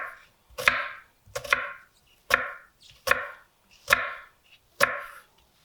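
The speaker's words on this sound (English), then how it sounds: "We want to use the tip of our knife just to cut down, but not all the way through." A knife chops down into an onion six times on a board, each a sharp close knock followed by a short crisp crunch, spaced in an even, unhurried rhythm with no talking.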